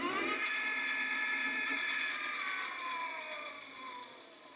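A Mokwheel Onyx ST e-bike with a mid-drive motor runs on throttle alone in 10th gear, giving a steady high electric whine with layered tones that hold loud and close, then ease slightly toward the end.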